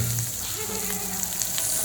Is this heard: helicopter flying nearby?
no